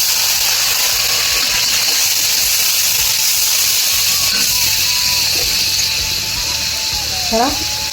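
Frying prawns hiss and sizzle steadily in a pan as a little water is added, a loud continuous crackling wash with a few squeaky scrapes near the end.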